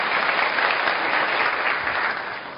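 A studio audience at a TV comedy show breaks into sustained applause, a dense wash of many hands clapping that holds steady and then begins to taper off at the end.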